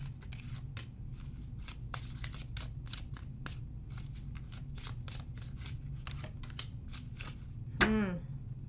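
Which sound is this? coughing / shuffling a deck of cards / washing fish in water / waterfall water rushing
shuffling a deck of cards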